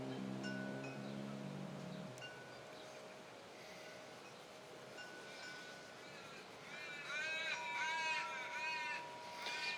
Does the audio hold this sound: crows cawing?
yes